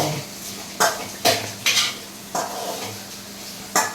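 Food being sautéed in a home kitchen pan: a series of sharp metallic utensil scrapes and clinks against the pan at irregular intervals, over a faint low background.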